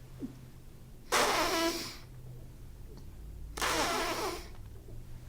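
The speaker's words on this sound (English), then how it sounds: "you could hear my nose at the same time as you could hear the air coming out of my mouth" Two long, airy bursts of breath pushed out through the lips during didgeridoo circular breathing, inhaling through the nose while exhaling, hissing and sputtering, separated by a quiet pause.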